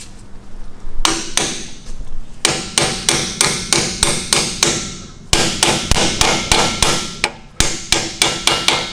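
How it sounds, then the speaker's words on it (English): Repeated sharp hammer blows drive a seal onto an axle of a 2001 Firehawk in a steady rhythm, close and loud, with a few brief pauses between bursts of strikes. "just kind of hammer it on home"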